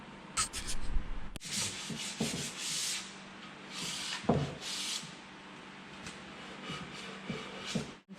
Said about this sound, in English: I'm going to take 400 grit, just an old piece of 400 grit sandpaper, and very lightly smooth it off